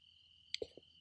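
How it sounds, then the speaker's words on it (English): Crickets chirp outdoors in a peaceful natural setting, a steady, faint, continuous trill running through the whole moment, with a couple of soft low thumps near the middle. "Can you guys hear the crickets?"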